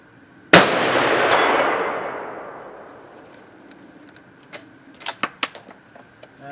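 A Colt Ultra Light rifle chambered in 7mm Remington Magnum fires one loud, sharp shot outdoors. The blast rolls away in a long fading echo, followed by a cluster of quick metallic clicks and clanks.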